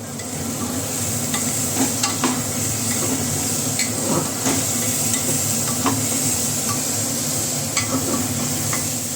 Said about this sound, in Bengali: রসুন পেঁয়াজ কাঁচা লঙ্কা একসাথে ভেজে নিয়ে